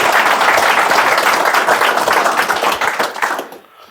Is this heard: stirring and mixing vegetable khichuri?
no